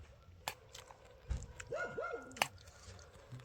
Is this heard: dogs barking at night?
yes